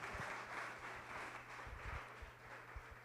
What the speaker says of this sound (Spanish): Fuerte el aplauso, por favor, para recibir al maestro Luis García Montero.